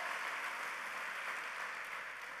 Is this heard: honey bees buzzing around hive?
no